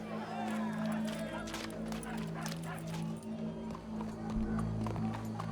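Hooves clip-clop on a horse in the Red Dead Redemption 2 game world, a steady mid-distance plodding rhythm beneath a continuous musical or ambient drone, with voices speaking nearby.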